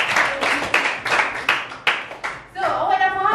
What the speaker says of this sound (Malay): tepuk tangan untuk kawan